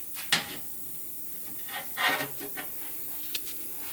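Metal bail on a custom vented valve cover with a powder-coat finish: a few faint, short scraping and rubbing sounds drag across the coated surface in a quiet room.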